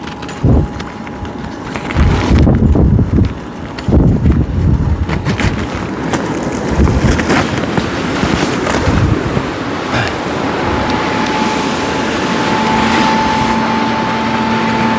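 A loud, steady rushing roar of 950W and 550W blowers inflating an inflatable paint booth runs throughout, with a few thumps and handling knocks early on.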